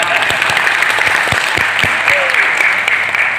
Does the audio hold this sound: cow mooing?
no